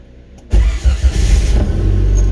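An Isuzu Trooper wagon engine cranks and catches after its fuel pump is primed, a loud close start that settles into a steady rumbling idle.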